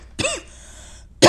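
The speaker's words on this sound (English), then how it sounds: "That's the cough strikes again." One sharp, rasping cough, then a brief lingering tone and a second harsh cough burst starting at the end, close and loud from a single person.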